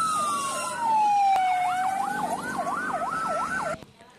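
A loud fire truck siren in Jambi, Indonesia, responding to a house fire, sweeps down in a long wail, then switches to a rapid warbling yelp, close by, before cutting off.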